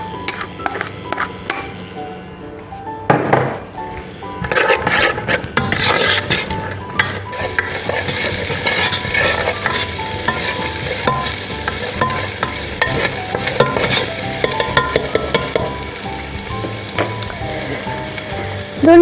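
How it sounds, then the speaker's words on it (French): Onions sauté in olive oil in a pan with a persistent close sizzle, while a utensil repeatedly stirs and scrapes across the pan bottom in irregular strokes and no one speaks. "on met un petit filet d'huile d'olive et on va faire revenir les oignons"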